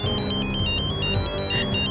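A phone ringtone rings in a repeating electronic melody, loud and steady over low background music, with no speech over it.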